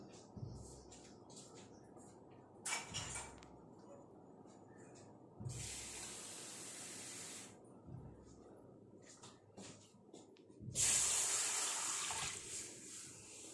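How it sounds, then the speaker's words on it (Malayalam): A glass of water poured into a hot iron pot for a homemade amla hair dye, giving faint bursts of hissing sizzle that flare, fade, and return louder near the end amid quiet kitchen background. "നമുക്ക് ഇതിനകത്തേക്ക് ഒരു ഗ്ലാസ് വെള്ളം ഒഴിച്ചു കൊടുക്കാം"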